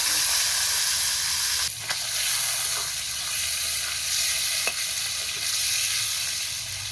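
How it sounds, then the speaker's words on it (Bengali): Live shingi fish fry in hot oil in a kadai, a loud, steady sizzle up close with occasional stirring scrapes and pops breaking through. "এখন কড়াই মাছগুলো দিই।"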